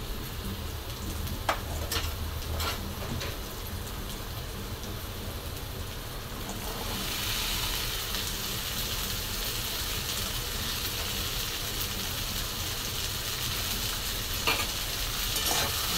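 Cut okra goes into a hot pan and fries with a continuous sizzle that swells louder partway through, with a few stirring taps and scrapes up close.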